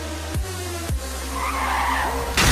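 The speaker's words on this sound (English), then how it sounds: "Experience the full force of a glorious race car pileup" A race car pileup in a video game: tires skid and squeal loudly while engines drone underneath, with two sharp impact crunches early on and a louder burst of noise at the end.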